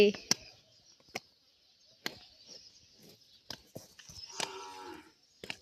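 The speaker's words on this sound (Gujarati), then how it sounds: "જો દોસ્તો, અમારી પાડી એક અહીંયા બેઠી છે।" A young female buffalo calf lets out a drawn-out moo near the end, with scattered sharp clicks and knocks earlier in a quiet setting.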